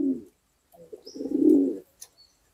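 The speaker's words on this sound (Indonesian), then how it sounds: "Ini burung merpati ini." A domestic pigeon trained for kolongan-style descent racing coos close by: a short opening note, then a longer rolling coo after a pause, with a faint high chirp near the end.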